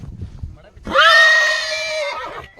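A horse whinnies in one long, loud, shaking neigh that rises and then holds steady for over a second, with quieter background noise before and after it.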